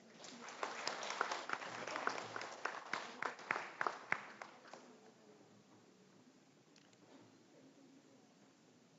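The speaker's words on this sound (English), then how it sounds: "A round of applause, please." Audience clapping at a government launch ceremony as a secretary stays on stage, a burst of scattered claps that is fairly lively at first, then tapers off into quiet room noise.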